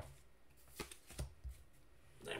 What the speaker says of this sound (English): Don't forget to draw and shuffle.